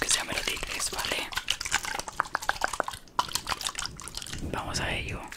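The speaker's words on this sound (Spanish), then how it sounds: "Voy a humedecerte el pelo un poquito." Water misted or dripped onto hair at the start of a quick ASMR haircut, heard as close, soft wet spritzing and dripping with crackling texture, with quiet talk in the background.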